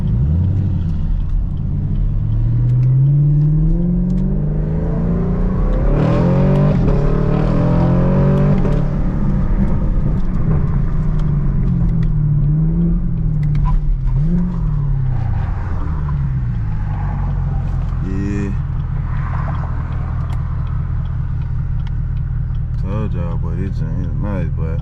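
A Chevrolet Camaro SS pulls hard on a highway. Its loud, close engine drone rises and falls through several revving surges, and someone talks over it throughout.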